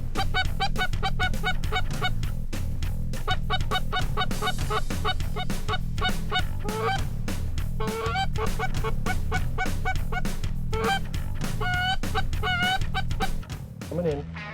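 A large flock of waterfowl calls in dense, overlapping honks and clucks across open water during a shore hunt. The calls are loud and continuous for the whole span, with occasional voices talking underneath.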